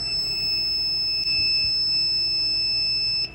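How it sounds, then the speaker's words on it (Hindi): An Arduino UNO buzzer triggered by an ultrasonic sensor sounds a loud, piercing continuous alarm tone for about three seconds before cutting off. "the LED will turn on and buzzer will also produce the sound"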